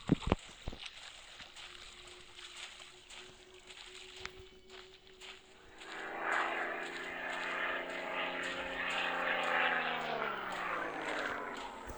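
A propeller airplane engine in a video game drones steadily, rising into a loud sustained hum with a slowly shifting pitch after a few sharp clicks at the start.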